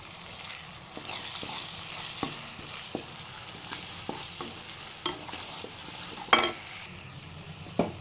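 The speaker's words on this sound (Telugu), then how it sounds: "ఇప్పుడు ఉల్లిగడ్డ వేగింది, గోల్డెన్ కలర్ వచ్చింది." Onions fry in a pan with a steady sizzle while a spoon stirs them, giving scattered clicks and scrapes; the cooking is close and moderately loud, and a louder scrape comes near the end.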